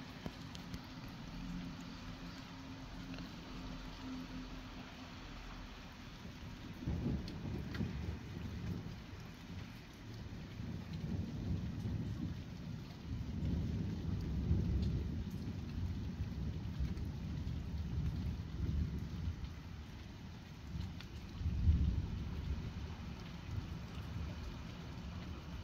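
Nighttime thunderstorm with steady rain falling on surfaces and low rolling thunder swelling several times, distant rumbles building and fading under the constant patter.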